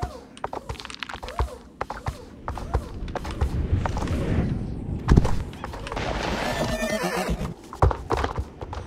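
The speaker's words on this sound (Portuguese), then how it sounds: "Os relinchos que ele dá do nada" Horse sound effects from the video game Star Stable: steady clip-clop hoofbeats of a galloping horse with thuds, broken by a loud neigh and whinny midway, close and clear with no talk.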